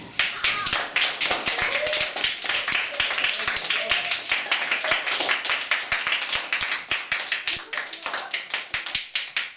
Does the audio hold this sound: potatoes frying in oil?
no